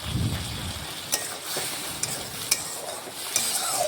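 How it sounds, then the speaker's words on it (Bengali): Potatoes coated in poppy seed and mustard paste are stirred in a pan, producing a continuous soft sizzle with occasional spatula scrapes and taps. "এখন নাড়াচাড়া করে ভালোভাবে আলুর সাথে মিশিয়ে নেব।"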